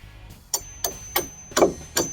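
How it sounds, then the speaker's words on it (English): Five sharp hammer blows drive carriage bolts through freshly drilled holes in a deck frame post. The strikes are close and ring briefly, coming at a steady rhythm about a third of a second apart. "Then you hammer your carriage bolts through the hole that you just drilled"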